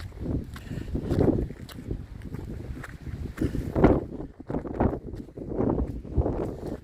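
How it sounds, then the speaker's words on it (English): Strong wind on a mountain trail buffets the microphone in heavy, uneven gusts, rumbling and roaring throughout with brief lulls between blasts. "because I am up here where it is beyond windy"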